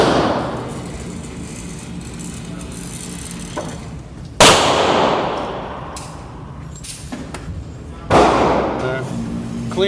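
A 1911 pistol fired with a Checkmate 10-round magazine, three sharp loud reports spaced about four seconds apart, each trailing off with echo, outdoors with light background noise between shots.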